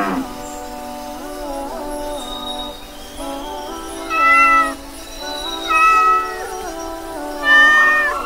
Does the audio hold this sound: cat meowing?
yes